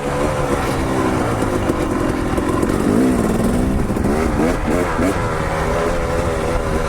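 A dirt bike engine runs nearby on slow, technical off-road terrain, idling with a low, uneven throb and rising into a few brief revs, loud and continuous throughout.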